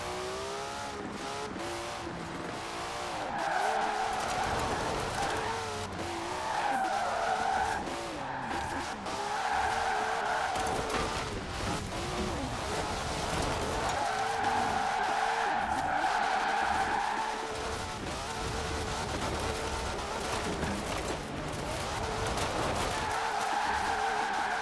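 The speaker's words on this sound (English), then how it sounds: "Let's take it drifting and see what happens." A car drifting in the racing game Forza Horizon 4: sustained loud tire squeal and skidding over a revving engine, pitch sweeping as the slide continues, steady and close throughout.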